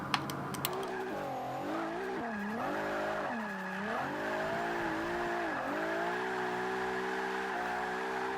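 A Nissan R35 GT-R drift build in Forza Motorsport 5 howls through a long slide, its engine revving up and down in sweeping waves beneath a steady hiss of tire squeal, loud and continuous throughout.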